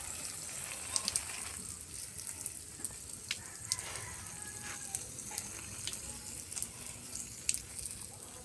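Water trickles weakly from a tap outdoors, a faint, thin, steady splashing with small irregular drips and spatters over a quiet background.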